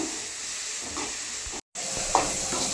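Goat head meat curry ingredients sautéing in a hot pan give a loud, close, continuous sizzle and hiss, with soft stirring sounds and one brief dropout.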